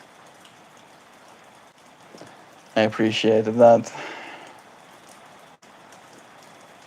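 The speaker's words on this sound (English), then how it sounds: "And it's just been consistently raining like this the whole day as well." Steady rain falls throughout as an even, close wash of patter, and a person speaks briefly over it partway through.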